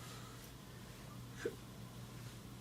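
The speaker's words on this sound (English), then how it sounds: "Kind of got the hiccups all of a sudden." A single short hiccup from a man, heard once partway through over a steady low hum, with nothing else around it.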